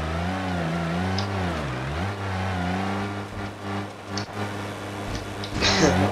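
Engine of the FPU Wydra, a slow base-trim vehicle in BeamNG Drive, droning steadily and rising and falling in pitch as it drives, fairly loud and continuous, with brief talk near the end.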